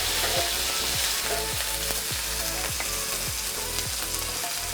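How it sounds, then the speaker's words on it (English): Garlic, small onion and chili paste frying in oil for a bitter gourd and mango stir fry, giving a steady, close sizzle throughout over a rhythmic music track, with no voices. "I'm adding in the paste made of garlic, small onions and chili."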